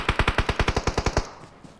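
Rapid automatic gunfire from a video game: about a dozen loud, evenly spaced shots in one quick burst, then a fading tail with no talking.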